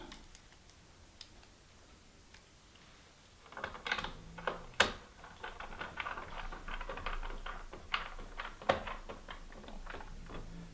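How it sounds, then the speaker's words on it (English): Small plastic screws being driven in while refitting a stepping motor on a Viking Quilt Designer II sewing machine: a quiet stretch, then a string of close, light ticking and clicking sounds with irregular spacing, alone. "Now we put on one of the little screws."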